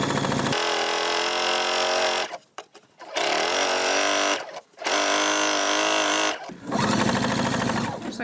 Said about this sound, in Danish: Og jeg kører den første søm cirka 5 mm ind glat her.